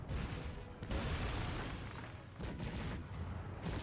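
Cannon and musket fire from a large 4v4 battle in the strategy game Cossacks 3, a continuous dense barrage of overlapping booms and crackling shots with brief surges, loud and without talk.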